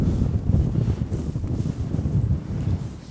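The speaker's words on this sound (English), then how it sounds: "the wind's coming from behind, so we should be fine" Wind buffets a tent pitched at a sub-zero wild camp, a KUIU Storm Star, as a steady, close, low rumble with gusty surges and no speech.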